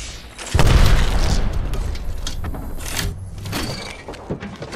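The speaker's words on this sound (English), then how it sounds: "grenade." A grenade explodes in the Apex Legends video game, a sudden loud boom followed by a rumbling, crackling tail and scattered game sounds.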